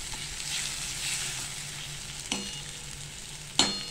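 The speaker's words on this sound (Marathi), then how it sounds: "आता हा टोमॅटो पण चांगला आपल्याला ह्या भाजीमध्ये मसाल्यामध्ये परतून घ्यायचा आहे" Tomato sautéing in masala for aloo poori bhaji, a soft steady sizzle in the pan with two brief sharp scrapes of a spoon stirring, close and with no talk.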